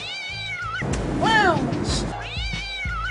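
A cat meows loudly and drawn-out at close range, twice, with a man exclaiming over it in the middle.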